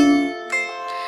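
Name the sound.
lyre playing arpeggiated chords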